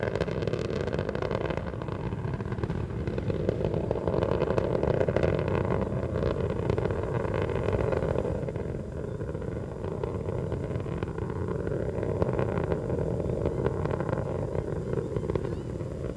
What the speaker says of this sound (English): Atlantis' 3 liquid fuel main engines now throttling back in a 3-step fashion